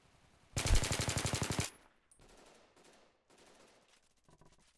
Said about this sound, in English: I'm trying to shoot you.